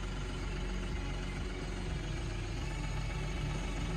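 A tractor engine idles with a steady, low, even rumble throughout, close by and alone, with no talk over it.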